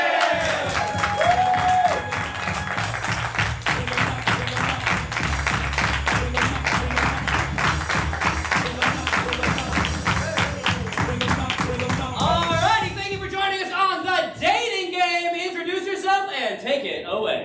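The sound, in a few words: crowd yelling with a round of applause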